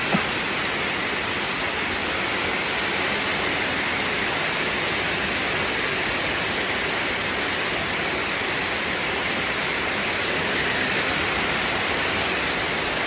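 Heavy rain pouring steadily over a rice field, a dense, unbroken hiss of downpour that stays loud and even for the whole stretch, with no voices.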